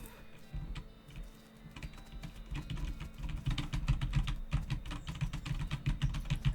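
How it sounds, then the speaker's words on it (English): Computer keyboard typing with clicky, rapid keystrokes that start sparse and become denser and louder, a fast irregular clatter filling the second half. "The noises coming from your keyboard are upsetting."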